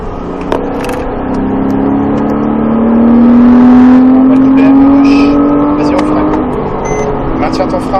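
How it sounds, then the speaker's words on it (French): Porsche Cayman S on the Trappes race track accelerating harder and harder, a loud sustained engine note rising steadily in pitch from the cabin, with a person talking over it. "On commence à réaccélérer de plus en plus. Allez à fond"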